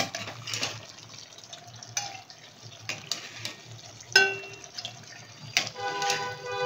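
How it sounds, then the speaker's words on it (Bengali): Excess oil from dhaba-style kadai chicken being ladled out of the kadai into another bowl, with liquid pouring and dripping sounds and light metallic ladle clinks against the pan, close and moderately loud. "এই তেলগুলো একটা হাতা দিয়ে এগুলো একটা অন্য একটা বাটির মধ্যে তুলে নেব"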